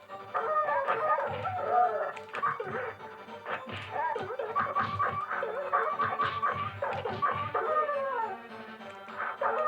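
Killer Instinct fighting game audio with a wolf fighter letting out repeated whimpering and howling dog pain cries amid crashing hit impacts, loud and continuous through the fight.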